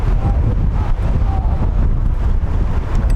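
Wind gusting across an outdoor soccer field during a youth rivalry match, a loud, steady rumbling buffet against the microphone that masks most other sound.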